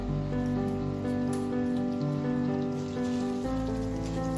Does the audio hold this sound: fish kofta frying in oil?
yes